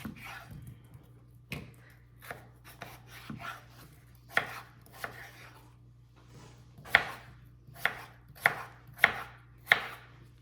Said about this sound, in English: I'm just gonna cube these up into the size that we want them for our hash